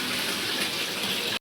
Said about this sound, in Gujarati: પાણી ચાલુ છે સવારે